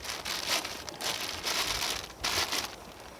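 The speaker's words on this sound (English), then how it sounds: "I have to go through and take all the plastic off of everything" Plastic wrapping crinkling and crumpling as it is pulled off tent poles, close and continuous in several bursts of rustling with short pauses between.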